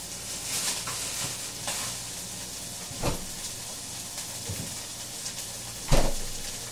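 Three eggs fry in a pan, a steady broad sizzle close by, broken by a few louder scrapes or taps.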